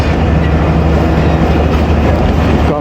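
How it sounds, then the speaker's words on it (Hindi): The 38 Down Baba Fareed Express pulls out of Khudian Khas station, a steady loud rumble of rolling wheels and carriages close by, with no voices. "खुडियाँ ख़ास से डिपार्चर हो रहा है 38 डाउन बाबा फरीद एक्सप्रेस का"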